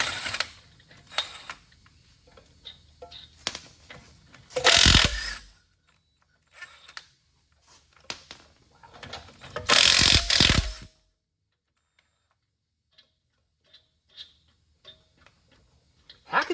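Ratchet clicking as it turns a long threaded bolt on a 4x4 van, coming in short rapid bursts with loud heavy clanks and pauses in between, close by with occasional voices.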